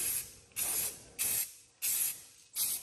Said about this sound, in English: I'm gonna paint this fender with some Rust-Oleum acrylic